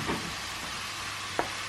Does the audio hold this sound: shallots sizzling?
yes